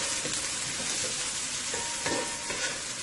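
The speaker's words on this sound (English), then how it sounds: "I'm frying my potatoes separate" Potatoes with onion, garlic and chili pepper fry in a pan for a Guyanese-style stew, giving a steady hissing sizzle with occasional scraping stir sounds throughout.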